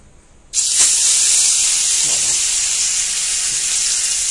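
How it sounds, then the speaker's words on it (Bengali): Fish sizzling loudly as they drop into very hot oil, a sudden hiss that jumps in and holds steady and bright, close up, with no talking. "এবার এই মাছগুলো সব ভাজবো। তেল পুরো হিট হয়ে আছে"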